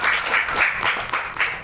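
A school audience claps at a Maulid Nabi celebration at SDN 011 BU Pulau Gusung in Bontang, with steady, dense applause from a near crowd filling the space in continuous waves.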